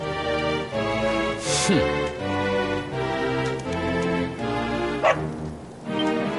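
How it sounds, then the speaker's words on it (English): A cartoonish dog barks and yips in Dragon Quest XI, several short barks over steady game music with a brief whimper-like squeal partway through. "No! Not a dog! Anything but that!"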